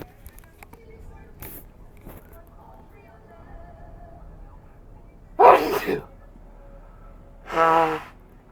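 Two loud, close sneezes burst out several seconds apart against a quiet room background during a tabletop role-playing session.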